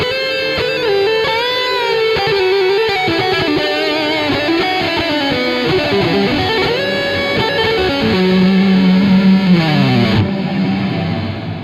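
Electric guitar played through a Zoom G6 multi-effects pedal set to its Space Hole reverb, loud sustained notes and sliding pitches smeared into a thick, shimmering, distorted wash of echoing ambience that rings on throughout.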